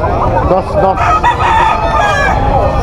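Young roosters crow loudly and close at a Philippine poultry market, one long crow following another with clucking around them and muffled voices from the crowd in the background.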